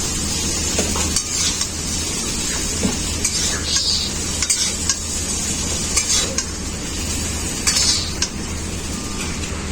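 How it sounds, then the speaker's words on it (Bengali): Steady hiss of eggplant frying in hot oil, with occasional clinks of a utensil against the pan. "বেগুনগুলোকে আমি খুব ভালো করে ভেজে নেব"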